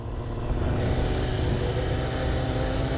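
A motorcycle engine idles steadily and up close with a low, continuous rumble while the rider holds a tall circle wheelie in tight circles, with no pauses in the drone.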